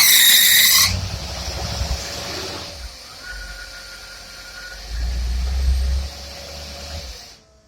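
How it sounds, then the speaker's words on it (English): Engine fitted with a Motorcraft 2150 carburetor running, then dropping away and stalling when put in gear, a loud hiss and rumble that fades, surges briefly, and cuts out near the end. "It's in gear and watch it'll stall."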